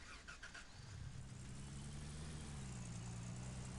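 Truck engine in the Gold Rush game turning over and settling into a steady low rumble while driving, continuous and moderately loud, alone without talk.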